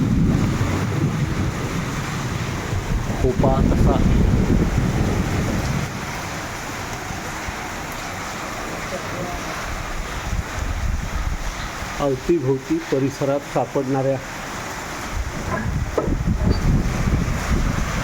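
A strong wind drives heavy rain in a steady, loud wash of noise that swells and eases in gusts, with someone speaking intermittently above the downpour.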